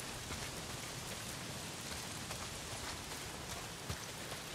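Heavy rain pouring down in the video game Days Gone, a steady, dense hiss of drops with scattered louder splatters, continuous and close with no voices.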